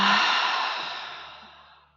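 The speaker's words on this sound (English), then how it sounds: "Inhale. And exhale." A single deep, breathy exhale during a partner acroyoga twist, starting loud and close then fading steadily over about two seconds, with no talking over it.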